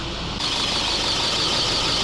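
An Audi A8 engine idles with a steady rumble while a strong, continuous hiss sets in after a moment and persists.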